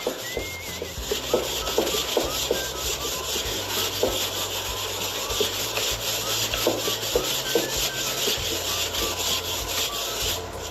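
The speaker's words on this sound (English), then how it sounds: "I'm gonna try to scrub a little bit more." Close, steady scrubbing with disinfectant, rough rhythmic rubbing strokes repeating over a hard surface for several seconds, loud and continuous with no talking.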